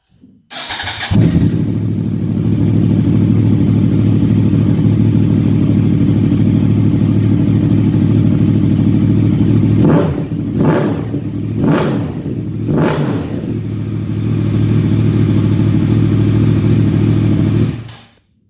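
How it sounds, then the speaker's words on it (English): A Yamaha R1 motorcycle fitted with a Hotbodies MGP aftermarket exhaust starts and idles loudly and steadily, then gives four sharp throttle blips in quick succession before settling back to idle and shutting off; no one speaks. "I really want to hear this exhaust"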